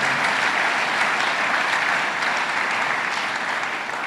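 A church congregation applauding and cheering during a sermon, a dense steady wash of clapping from many hands that holds evenly throughout, with no voice rising above it.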